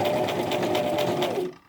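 A Brother LX3817 sewing machine stitching a buttonhole at slow pedal speed, producing a close, steady whirring with a fast needle rhythm that stops suddenly after about a second and a half.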